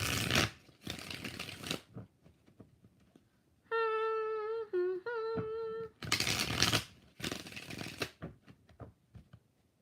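Tarot cards are shuffled in two quick riffling bursts, a pause with a tonal musical note sequence between them, then two more riffles, close and crisp.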